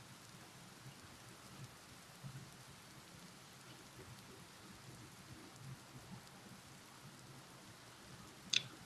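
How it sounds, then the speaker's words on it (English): Soft, steady rainfall patters outside, a constant hiss with faint drops, and a brief sharp click near the end. "Is it really raining outside?"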